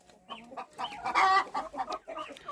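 Hens clucking up close in a steady run of short, overlapping calls, with one louder, drawn-out squawk in the middle.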